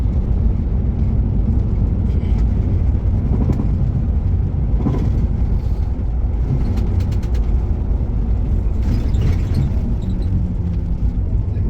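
An Ena Scania coach cruising on the Dhaka to Sylhet highway, heard from inside as a loud, steady rumble of engine and road noise that holds level throughout, with a few faint rattles and no talking.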